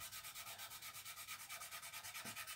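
Steady rhythmic hand sanding of glue bumps on a painted model aircraft, quick back-and-forth rasping strokes repeating evenly at close range.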